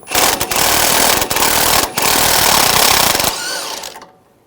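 A loud, close, continuous mechanical rattle of a power tool with a socket spins off the top nut of the sway bar link on a 2011-2018 Ram 1500 3.6L V6 front strut. It runs in bursts with brief pauses, then winds down and stops.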